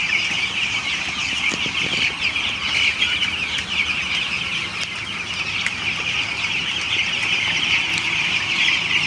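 Broiler chickens on a poultry farm fill the air with a dense, steady chorus of clucks and chirps, a constant crowded flock murmur up close with no talking.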